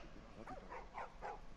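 Dogs in the video game The Last of Us give four short, faint yipping barks in quick succession, sounding distant and quiet.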